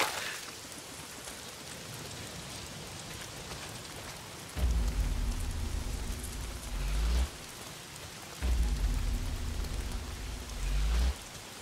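Steady rain in the video game Days Gone hisses continuously, joined by two bursts of deep rumbling that swell for a few seconds each, like distant thunder under the downpour.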